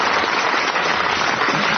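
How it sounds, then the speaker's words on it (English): An audience at a radio quiz show breaks into steady, even applause, a dense wash of clapping that holds at the same level throughout with no voices on top. "You may well applaud."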